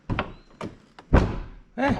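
Several solid door thunks from a C5 Corvette close up, each a short, heavy slam with a brief ring, spaced irregularly with quieter handling noises between.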